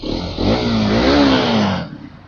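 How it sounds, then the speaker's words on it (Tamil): Hero motorcycle accelerating hard in fifth gear, its exhaust note swelling into a loud rising rasp for about a second and a half before cutting off abruptly. "எக்ஸாஸ்ட் சவுண்ட் பயங்கரமா இருக்குங்களா?"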